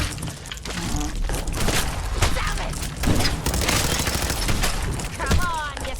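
Rapid bursts of gunfire from a gun in the video game Fallout 4, loud and dense, with repeated shots over a busy background and a voice talking briefly amid the shooting.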